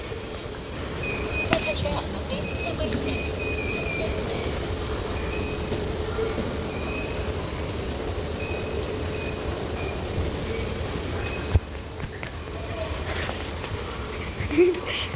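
A train running in Korea gives a steady, loud rumble of wheels on rails with a continuous carriage roar, a few sharp clicks cutting through near the middle and end.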